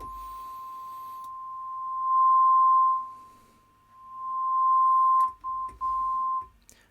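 A bagpipe note filtered down to a single 1040 Hz pitch rings as a steady pure tone that swells louder twice and then breaks into a few short bursts near the end, with no voices.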